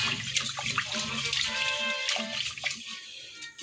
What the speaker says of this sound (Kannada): ಫಸ್ಟು ಅಕ್ಕಿ ಆಗೋದಕ್ಕಿಂತ ಮುಂಚೆ ತೊಳ್ಕೊಬೇಕು.